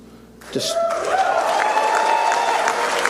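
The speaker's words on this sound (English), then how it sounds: "And at the Freedom Tower in Miami, the crowd erupts" A crowd at the Freedom Tower in Miami erupts into loud, sustained cheering and applause after a quiet start, with a steady wash of voices, whistles and shouts continuing throughout.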